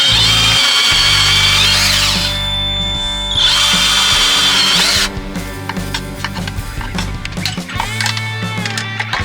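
A power drill whirs loudly in sustained bursts, pitch rising and dipping, then stopping into short clattering knocks and brief spins.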